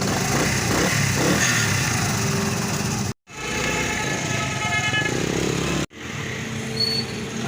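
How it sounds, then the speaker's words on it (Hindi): Motorcycle engine idling and revving on a short test ride after fuel mileage adjustment, a loud, buzzing, continuous drone close to the microphone, briefly cut off twice. "अब हम इस बाइक की ट्राई लेंगे।"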